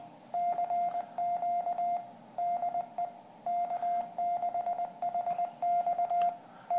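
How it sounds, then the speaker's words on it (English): Morse code side tone from a radio, sent by an Arduino-powered IBM PS/2 keyboard: clean steady beeps in quick dot-dash groups with short gaps, close and clear, no voices. "the side tone is being generated by the radio"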